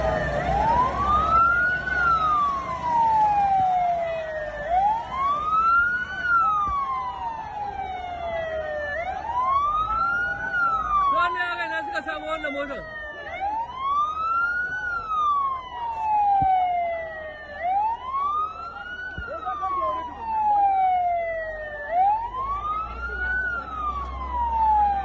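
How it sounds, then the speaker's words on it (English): A vehicle siren wails in slow, regular rising and falling sweeps during a street protest in Nigeria, loud and continuous over faint crowd and traffic noise. "The vehicle's siren was blaring as this happened."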